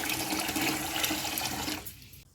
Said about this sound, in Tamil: இது வந்து நல்லா தண்ணியை ஊற்றியாச்சுங்க.